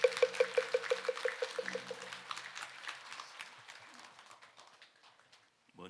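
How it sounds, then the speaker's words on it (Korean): Audience applause at a Buddhist dharma talk ceremony, a dense wash of clapping that starts loud and gradually thins and fades over several seconds before stopping. "여러분 컨스님께 큰 박수 부탁드리겠습니다."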